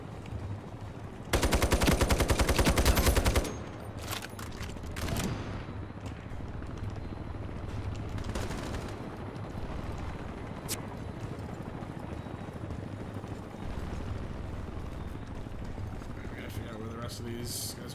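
Gunfire in the PC shooter Iron Sight: a loud burst of rapid automatic fire up front, then scattered single shots and distant bursts over continuous game sound, with someone talking throughout.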